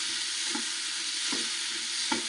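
Two finely chopped tomatoes being stirred in a pan, with a constant bright frying hiss and three soft, evenly spaced stirring scrapes, close and free of any voice.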